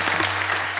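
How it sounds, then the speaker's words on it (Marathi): Audience applause at a comedic kirtan devotional gathering, a brief, dense burst of many hands clapping with a steady hum beneath it. "टाळी वाजवा"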